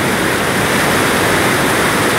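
Cachoeira da Chave waterfall in Votorantim, Brazil, pouring a huge volume of water, a loud, dense, continuous roar close by with no pauses.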